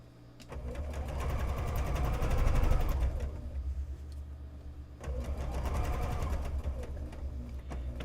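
A sewing machine stitching a beach bag seam, running in two close, rapid bursts of whirring needle chatter separated by a short pause, loud and near with no talking.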